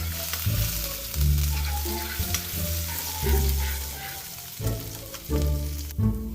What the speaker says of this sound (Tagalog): ilagay po natin ang ating luya hanggang sa mag-brown